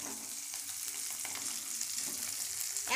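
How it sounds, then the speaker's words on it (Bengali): Potato cutlets fry one at a time in hot oil, giving a soft, continuous hiss and sizzle heard faintly from a short distance, with no talk over it. "একটা একটা করে ভাজছে।"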